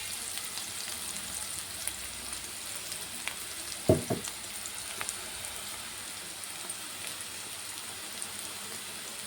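Cauliflower florets half-frying in oil for gobi manchurian, giving a steady soft sizzle throughout with a brief louder clatter of stirring near the middle, no talking.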